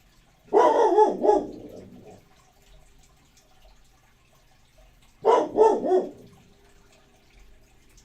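Bella, a pet dog, lets out two separate clusters of sharp barks, each two or three quick woofs, close to the microphone with quiet gaps between.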